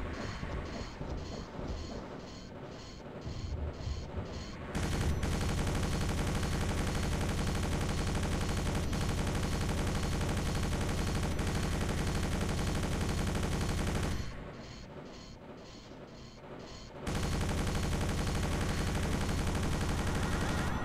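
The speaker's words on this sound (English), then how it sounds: "I could just shoot them with rockets" Rapid weapon fire in the game Doom, long stretches of dense, loud, unbroken blasting that cut off into brief quieter gaps of repeating pulses before resuming.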